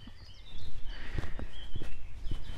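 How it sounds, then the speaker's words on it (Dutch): Footsteps squelching along a muddy horse path on an outdoor walk in wet weather, several soft irregular treads close by, with faint birdsong in the background. "En we lopen nu over een blubberig paardenpad."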